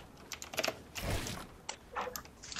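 Computer keyboard typing during a gaming session: quick bursts of key clicks and clacks, close and fairly loud, with short pauses between flurries.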